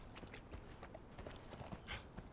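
Horse hooves clip-clop steadily in Conan Exiles, a continuous run of soft, even hoof beats over a dense ambient game soundscape, with no talking.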